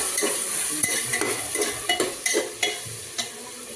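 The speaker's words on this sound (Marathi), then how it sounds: "कांदा टोमॅटो मिरची सगळं एकत्रच टाकले मग ते भाजून घेणार" Onion, tomato and chilli frying together with mutton masala in a pan, a bright steady sizzle with quick scraping stirs every half second or so, close and clear.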